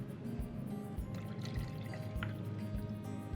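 Liquid pours steadily into a pot with a continuous gurgling splash, fairly close and moderately loud, with no voices over it.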